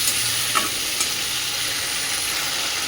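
Ginger, cumin and chili paste sizzling with tomato in a pan for a vegetarian soybean curry, a loud, even, close frying hiss with a couple of light stirring taps.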